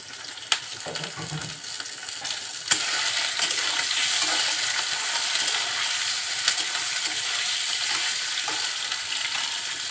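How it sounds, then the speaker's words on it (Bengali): Prawns frying lightly in hot oil in a pan, a bright continuous sizzle that swells after a sharp clink early on and holds steady, with occasional stirring scrapes. "তেলের সাথে চিংড়ি মাছটা আমি একটু হালকা ভেজে নেব"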